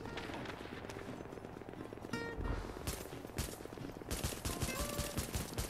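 Rapid gunfire in the video game The Division, bursts of automatic shots crackling in quick succession, fairly quiet in the mix and continuous across the moment.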